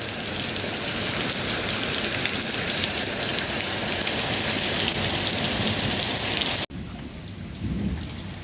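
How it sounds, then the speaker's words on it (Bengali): Heavy rain pours steadily onto a flooding courtyard in strong wind, a dense, loud hiss throughout that drops abruptly near the end and continues more softly. "প্রচুর বৃষ্টি হচ্ছে।"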